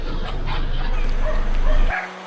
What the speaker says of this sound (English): We have a dog-monkey confrontation going on.